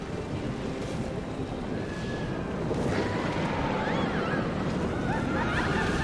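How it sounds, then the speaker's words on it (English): In a Planet Coaster river rapids ride, water rushes in a dense, steady splashing wash that holds loud and unbroken throughout, with faint tonal game sounds above it. "That's a great way to do a splash."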